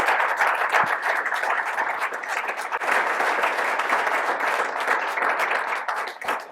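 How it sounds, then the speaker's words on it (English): An audience applauds Bob Black at a board room talk, sustained dense clapping that holds steady and fairly loud for several seconds without speech. "please join me in giving a round of applause for Bob Black"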